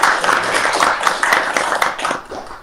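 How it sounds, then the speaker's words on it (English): An audience applauds for Srila Prabhupada at an ISKCON Dublin disappearance day gathering, steady dense hand clapping from many people throughout, fairly close and fading slightly near the end. "You can clap for Prabhupada, no problem."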